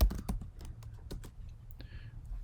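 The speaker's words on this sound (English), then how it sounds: "Let me type in help desk." Quick, irregular keystrokes tapped on a computer keyboard, a short burst of close, crisp clicks with slight room noise beneath.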